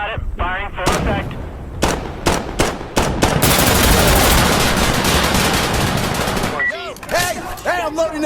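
Artillery and heavy gunfire in Insurgency: Sandstorm, with loud sharp shots at first, then a long, dense roar of continuous firing and shelling, with game voices before and after.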